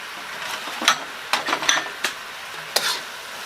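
Frying in a pan, with fried shallots poured in: a soft sizzle runs under sharp scrapes and metallic clinks from a utensil against the pan, coming in irregular bursts close by.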